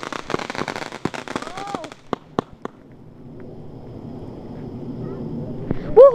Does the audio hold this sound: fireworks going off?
yes